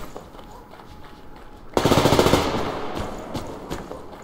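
A regular AK rifle fires in Survarium: a short, close, rapid automatic burst rattles out mid-clip, then fades to scattered quieter shots and footsteps.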